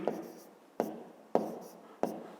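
A pen or pencil writes numbers by hand for a fifth-grade math exercise, giving four short scratchy strokes spaced about a beat apart, each starting with a sharp tap and trailing off, close and fairly quiet.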